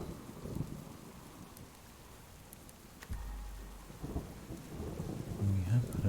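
Rain patters steadily on a surface in the survival game Subsistence, with a deep rumble of thunder rolling in midway and growing louder toward the end.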